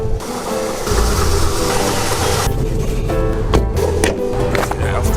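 A Range Rover engine runs nearby, a loud, steady mechanical drone with rattling texture. The tone shifts partway through and a few knocks and clatters sound over it.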